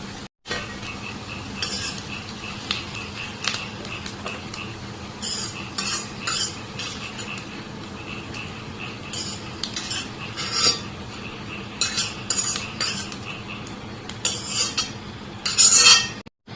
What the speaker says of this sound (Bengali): এখানে আমার পেঁয়াজটা ভাজা হয়ে গেছে আর আমি বেশ ভাজবো না, একটু নরম নরম হয়ে এসেছে। এখন আমি এটাই উঠিয়ে নিয়ে নেব।